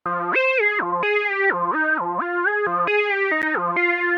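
A bright, buzzy synth lead plays a bouncing melody of stepped notes, loud and continuous with a slightly distorted, chorused edge.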